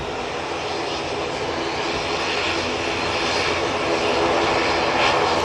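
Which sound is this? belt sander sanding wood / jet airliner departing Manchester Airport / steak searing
jet airliner departing Manchester Airport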